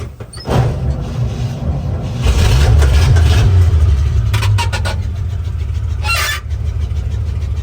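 A 1953 Chevy pickup engine cold-starts with a cranking burst, then settles into a loud, rumbling idle close by, with a few sharper revs part way through.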